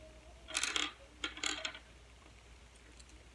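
Dice rattling and clacking in a tabletop battle game, rolled and then scooped up: two quick bursts of small hard clicks against a table, close and fairly quiet, with no one talking.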